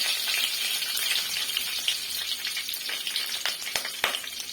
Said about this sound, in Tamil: சீரகமும் வெந்தயமும் நல்லா ஃப்ரை ஆனதுக்கு அப்புறமேட்டு நம்ம கருவேப்பிலை தேவையான அளவு